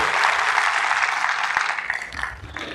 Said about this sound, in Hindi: सबके लिए एक बार जोरदार तालियां होनी चाहिए, जबरदस्त तालियां होनी चाहिए